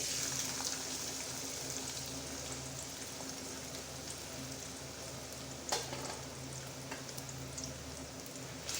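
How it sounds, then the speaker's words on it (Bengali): Chopped onion frying in oil in a pan, a steady soft sizzle and crackle throughout with a few light clinks of a utensil, fairly quiet and close. "আমি পেঁয়াজটা ভেজে নিচ্ছি"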